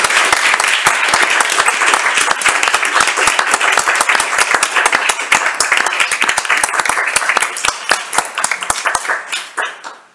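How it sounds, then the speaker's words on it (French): Audience at the close of a doctoral thesis defense ceremony in literature breaks into sustained, dense applause, loud and close, before the clapping thins and fades out at the end. "Vous pouvez applaudir maintenant."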